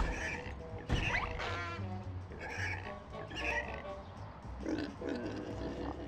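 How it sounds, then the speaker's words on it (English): Cartoon pig oinks and grunts in the Ed, Edd n Eddy: The Mis-Edventures video game come in short repeated bursts, mixed with game music and other effects. "Oh, wait, there's still another pig."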